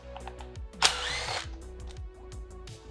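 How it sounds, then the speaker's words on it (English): A power tool drives a T30 Torx bit to back out cover bolts on an MK6 TDI engine, giving short whirring bursts and one louder, sustained whine, close up. "this is a T30 Torx bit to get these cover bolts off"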